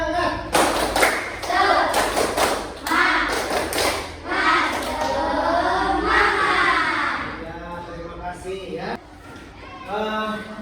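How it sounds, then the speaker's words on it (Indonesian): A class of schoolchildren performs a rhythmic clap-and-chant routine, sharp claps in patterned bursts alternating with the children shouting along together, loud and close in a classroom. "Kita tepuk semangat."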